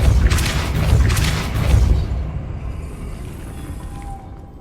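Depulso force-push spell fired in Hogwarts Legacy, heard as two heavy, booming magical blasts in quick succession, loud and close, with a rumbling low tail fading into quieter ambient game sound.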